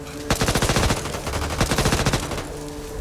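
Automatic gunfire in the video game Back 4 Blood comes as a dense, loud run of rapid shots that lasts most of the moment, with only brief easing.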